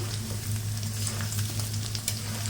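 Potatoes fry in oil in a pan with a steady, close sizzle and scattered crackles and pops, heard alone without voices over a low background hum.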